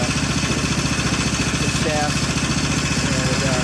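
A Predator 301cc engine fitted to a Snapper 8260 snowblower idles while warming up, giving a loud, steady, rhythmic chugging throughout, with someone talking over it.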